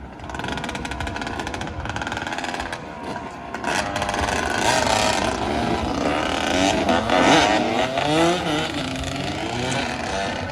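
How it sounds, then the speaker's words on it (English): A dirt bike rides past on a city street in North Philadelphia, its loud buzzing engine rising and rolling by close for several seconds amid steady urban traffic noise. "let me wait till the dirt bike goes by because it's kind of loud"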